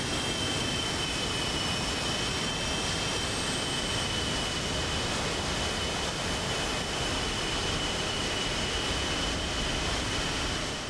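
F-16 Viper jets taxi on a runway in the DCS World flight simulator, a steady, dense jet-engine roar with a thin high whine that holds unbroken and loud throughout.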